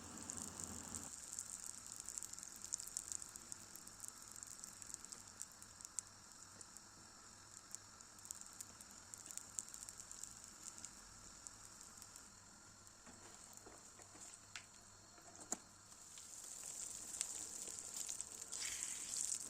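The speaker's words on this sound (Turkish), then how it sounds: "Şimdi son bezeyi de yağın içerisine aldım. Yavaş yavaş hafiften havalandırarak kızartıyorum." Pişi dough fries in hot oil in a pan, giving a steady, close, continuous sizzle and crackle with scattered pops over the whole stretch and no voices.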